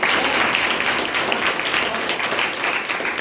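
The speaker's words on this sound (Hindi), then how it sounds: "ताली बजाइए अपने अपने लिए" Steady, dense applause from an audience at a Basant Panchami Saraswati celebration, clapping for themselves; it stays loud and even for the whole stretch with no pauses.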